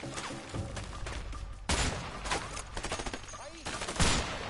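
Enemy gunfire in the video game A Way Out: bursts of rapid shots with heavy thuds, some louder and closer than others, spread across the whole stretch over steady game background noise.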